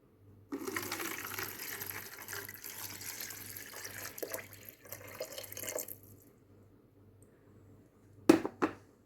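Water pours into a container in a steady splashing stream for several seconds, then stops, followed by a couple of sharp handling knocks.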